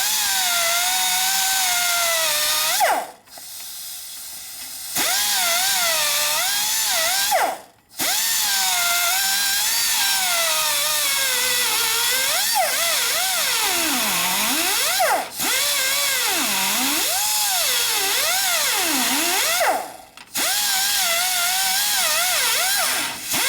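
An angle grinder shrieks loudly and steadily while grinding chunks off parts of a 1961 Harley-Davidson XLCH Ironhead Sportster engine, its pitch sagging and rising under load, with a few brief stops between passes.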